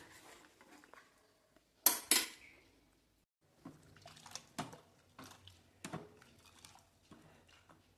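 A spoon stirs spiced masala milk sweetened with jaggery in a pot, a few quiet clinks and scraping knocks against the metal with gaps of near silence, close by.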